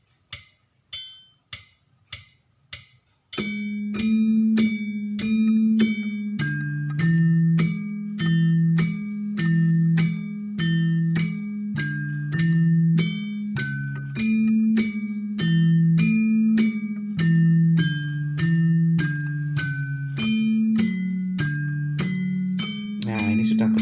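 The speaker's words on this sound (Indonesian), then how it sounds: "Kita hidupkan metronomnya dulu." A metronome ticks steadily while a saron gamelan pattern repeats in Solo pelog style, starting with a few lone metallic strikes and then settling into a continuous, loud, evenly pulsing melodic loop with ringing bronze tones.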